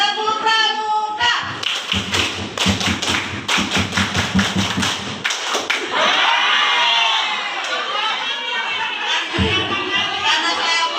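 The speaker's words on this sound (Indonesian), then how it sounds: "Tepuk pramuka." A classroom group of teachers performing the Pramuka scout clap, a loud rhythmic series of sharp unison claps in the first half, followed by cheering and shouting voices.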